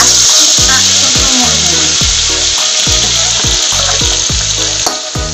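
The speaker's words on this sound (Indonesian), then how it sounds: "bumbu halusnya kita oseng-oseng dulu" Ground spice paste stir-fried in oil for a red snapper head gulai, giving a loud, constant close hiss and crackle with repeated scraping sounds throughout.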